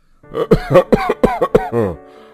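A run of harsh, rapid coughs, about six in quick succession, close and loud, ending in a raspy drawn-out breath.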